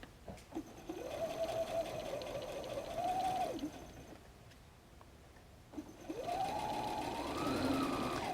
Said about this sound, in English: we're going to sew with the edge of the presser foot on the edge